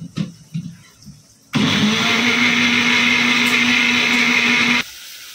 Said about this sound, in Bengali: তাহলে মিক্সিতে পোস্ত বাটা যায়, কিন্তু তার জন্য অনেকক্ষণ সময় দিতে হয়।